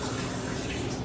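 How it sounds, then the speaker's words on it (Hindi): Steady running water from a kitchen tap pours as a dense, continuous gush, close and fairly loud, with no voices over it. "डोंट वेस्ट वाटर, मैं टैप बंद कर देती हूँ।"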